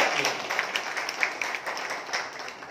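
Applause from an audience at a Matang community conference in Belapur, Navi Mumbai: a steady wash of clapping at moderate level, with individual claps popping out irregularly across the short stretch, no voices over it.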